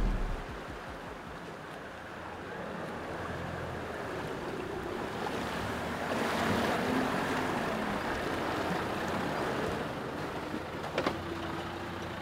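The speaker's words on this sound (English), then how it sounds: "Creek crossing, just a short little deep bit and then up out the other side." 4WD vehicle drives slowly through a short deep creek crossing on the Old Telegraph Track in Australia, water sloshing and rushing around it under a steady engine rumble, with a brief knock near the end.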